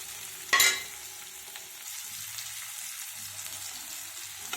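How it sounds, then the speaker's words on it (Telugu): Onions frying in a pan while making methi dal (menthikura pappu), a soft steady sizzle with one brief sharp clink of a utensil near the start, otherwise continuous and fairly quiet with no talking. "ఈ ఉల్లిపాయ ఫ్రై అయినాయండి"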